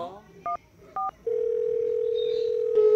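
Telephone call being placed: two short dialing beeps, then a steady dial or ringback tone that sounds continuously to the end, close and clear, with faint voices in the background.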